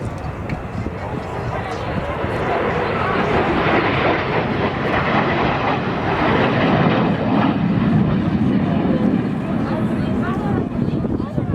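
Patrouille de France jets fly over Gruissan at an air show, a loud sustained roar that swells and holds for several seconds as people talk nearby.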